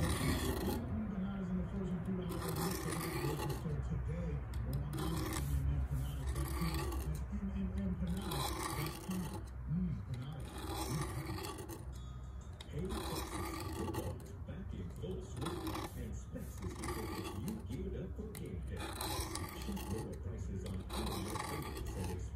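Knife blade stroked across a whetstone, repeated rasping scrapes in a steady back-and-forth rhythm, close by, with intermittent pauses.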